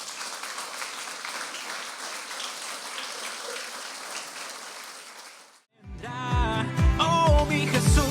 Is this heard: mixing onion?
no